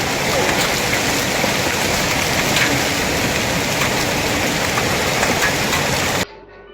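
Heavy downpour with hailstones in the Jajpur area of Odisha: a loud, dense, unbroken roar of rain beating on surfaces that continues for about six seconds and then cuts off abruptly.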